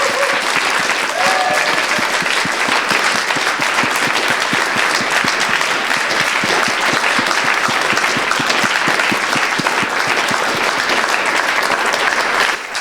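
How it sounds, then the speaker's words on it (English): Conference audience giving a long, dense round of applause, loud and continuous claps filling the room from start to finish without a break. "can we please give them a round of applause?"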